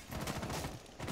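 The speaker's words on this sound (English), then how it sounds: "We want to shoot through that wall" Rapid bursts of gunfire in Rainbow Six Siege as shots are fired through a wall in a House map team deathmatch, a loud, continuous volley of automatic fire filling the whole second.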